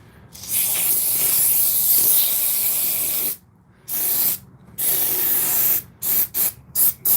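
Loud, continuous hissing spray of pre-mixed spray foam from a pressurized can in an attic, with a long burst followed by several shorter bursts separated by brief pauses.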